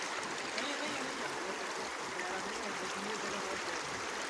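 Flowing water of the Swat River in Pakistan, a cold, deep mountain river: a steady, dense rushing roar of current, close and loud throughout with no pauses.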